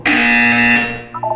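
A loud electronic buzzer from the video game Portal 2 sounds as one sustained, steady tone for nearly a second, then fades and ends with a couple of short softer blips.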